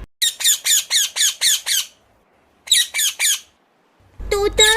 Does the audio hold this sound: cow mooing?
no